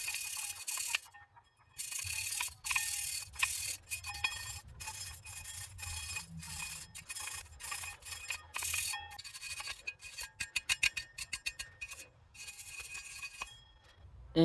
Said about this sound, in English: let's go ahead and scrape that off with our wire brush